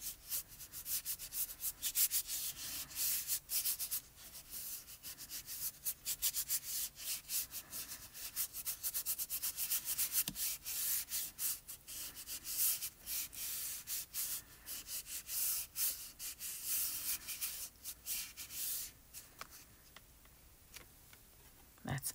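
Paper card panel cut to 5.5 by 4.25 inches being rubbed by hand for a Spellbinders house mouse card, a steady, close scratchy sanding-like friction with quick repeated strokes, no talking.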